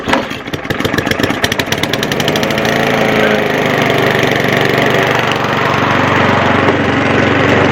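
A petrol lawn mower engine is pulled into life, sputtering in rapid firing pulses before settling into a loud, steady close-up drone that runs on evenly to the end.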